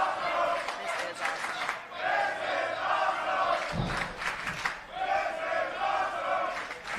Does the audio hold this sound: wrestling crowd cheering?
yes